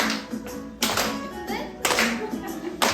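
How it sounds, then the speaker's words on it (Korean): Children clap their hands at an elementary-level church worship service, sharp rhythmic claps landing about once a second over a backdrop of voices and music. "박수"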